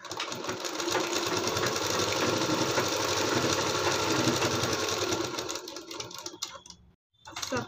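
A sewing machine stitches a kurti hem half an inch from the edge, running loud and close in one long continuous rattle that slows, stops briefly near the end, then starts again.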